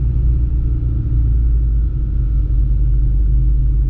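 Steady, loud low rumble of heavy road traffic dominated by trucks on a Java highway, a continuous engine drone heard from inside a moving vehicle, no talk.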